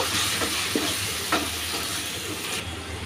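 Pumpkin leaves with a mix of four lentils cooking in a pan, a continuous close sizzle broken by a few scraping strokes of a spoon.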